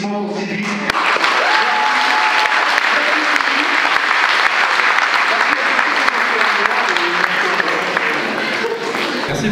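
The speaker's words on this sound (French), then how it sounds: "un gros tonnerre d'applaudissements pour Sylvie" Sustained, loud applause from a ceremony audience in Picardy, a thick continuous roar of clapping that keeps going for several seconds with little change after a brief voice at the start.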